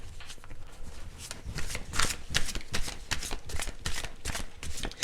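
Tarot cards being shuffled by hand in a quick, continuous rhythm of crisp riffling slaps, close and fairly loud with no talking.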